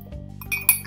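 A spoon clinks against a glass while apple cider vinegar is stirred into water, a couple of quick bright taps over a low steady background hum.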